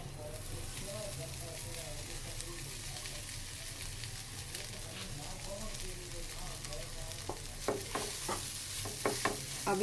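Chopped potatoes for samosa filling sizzle steadily in a pan over a medium flame while being stirred, with a constant frying hiss and a few scraping stir strokes near the end; a voice talks faintly underneath.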